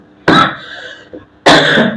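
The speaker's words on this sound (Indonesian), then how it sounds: "kok herannya batuk saya" A man gives two loud, harsh coughs close to the mic, a short pause between them, with a faint rasp in the gap.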